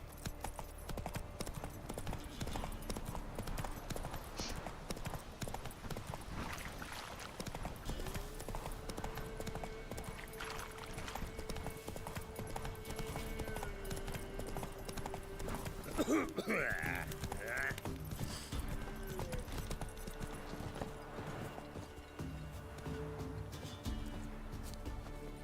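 Roach the horse's hooves clip-clopping in a steady gallop rhythm through Witcher 3's Velen marshland, running continuously under game music and ambience, with a voice briefly talking partway through.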